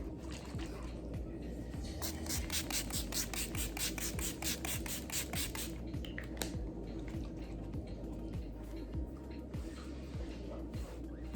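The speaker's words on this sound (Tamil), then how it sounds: "லாஸ்ட் ஸ்டெப்பாக வந்து மேக்கப் ஃபிக்ஸர் வந்து நம்ம ஸ்ப்ரே பண்ணிக்கலாம்" Makeup fixer setting spray is spritzed in a quick run of about a dozen short, faint hissing pumps lasting a few seconds, followed by quiet soft handling noise.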